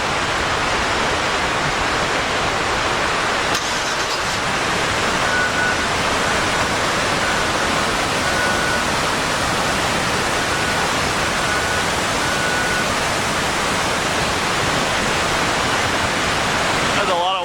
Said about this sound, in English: It is the first time I've seen it with this much water